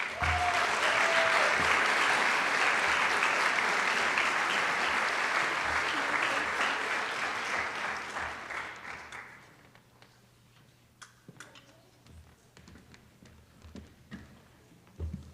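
Large audience applauding at a high school senior recognition night, a dense, loud roar of clapping that gradually fades out, leaving scattered individual claps in a quiet hall.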